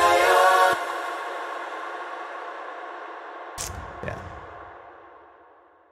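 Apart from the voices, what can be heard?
concert hall reverb from Valhalla plugin, highs turned up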